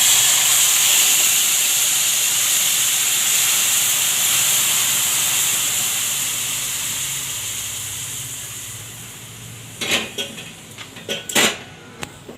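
Milk poured into a hot pan of sweet sev sets off a steady, loud hissing sizzle that slowly fades, followed near the end by a few brief clinks and scrapes of a utensil against the pan.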